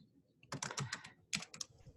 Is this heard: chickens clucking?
no